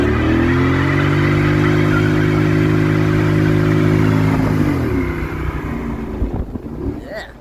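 A Corvette C6 engine roars loud and close at steady high revs during a burnout with a positraction rear end, then drops off and rumbles down toward idle, with wind noise and some voices near the end.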